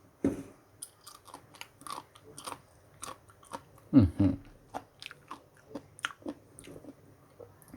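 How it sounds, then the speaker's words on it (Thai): Crunchy biting and chewing of freshly shredded papaya, with a run of crisp, close bites and crunches at a steady rhythm over nearly eight seconds. "จะลองกัดดูนะครับ"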